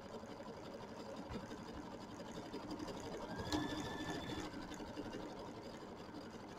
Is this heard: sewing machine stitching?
yes